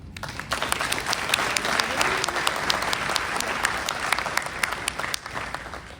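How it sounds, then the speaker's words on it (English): A white coat ceremony audience gives a full round of applause: loud, continuous clapping from a sizeable crowd that fills the entire span without a break. "please give yourselves a round of applause"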